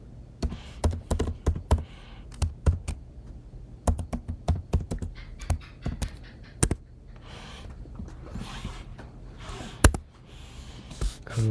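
Rapid keystrokes on a computer keyboard come in irregular bursts and pauses, close and fairly clear, with faint breathy background noise and no speech.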